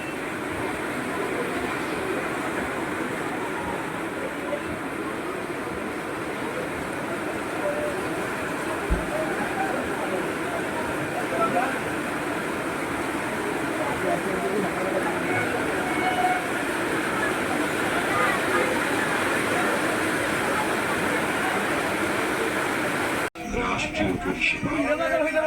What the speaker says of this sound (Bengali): ওরে ঢুকে গেছে ট্রেন।